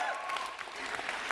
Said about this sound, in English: I got a round of applause for Six Nations